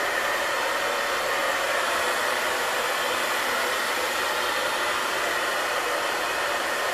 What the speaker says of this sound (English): It makes a real difference when you're drying your hair and the shine that you get.